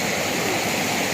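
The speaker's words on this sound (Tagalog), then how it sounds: "Yun ang ganda ng agos ng linaw ng tubig" The Puyao River in San Nicolas, Pangasinan, a clear river fed from the mountains, rushes and flows in a dense, continuous broadband wash, loud and close with no pauses.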